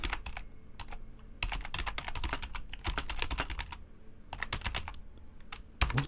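Close, crisp keystrokes on a computer keyboard come in quick bursts with short pauses between them, and no voices are heard.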